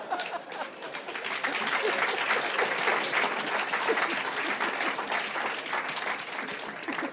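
Audience applauding at an MBA class opening ceremony, a sustained, even round of clapping from a crowd with a few scattered chuckles.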